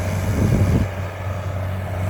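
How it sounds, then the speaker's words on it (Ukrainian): New Holland tractor diesel engine running steadily at close range, a low constant hum with a brief louder rumble near the start. "Приємний такий бадьорий звук у Холанда."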